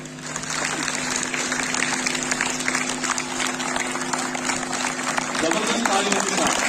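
School audience at a personality development workshop award ceremony applauding continuously, a dense steady clapping wash from start to finish, with a faint sustained tone underneath.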